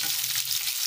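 Onions frying in a pan for an Odia-style drumstick and potato curry, a steady close sizzle with soft stirring, short and alone.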